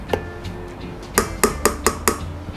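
A spoon scraping and knocking against a metal pot while rice is stirred, giving a few sharp clinks in quick succession after a quieter stretch.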